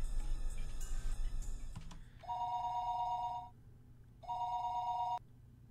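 A telephone in the visual novel Higurashi rings in two long electronic trills separated by a pause, clear and close, after a brief burst of clicks and background music.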